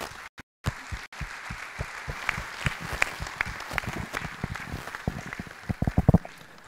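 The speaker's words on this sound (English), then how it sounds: "give a huge round of applause to all the panelists" Scattered audience clapping for conference panelists at a naval dialogue event, sparse distinct claps that build irregularly and grow denser toward the end, with a few brief gaps near the start.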